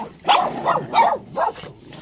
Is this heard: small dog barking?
yes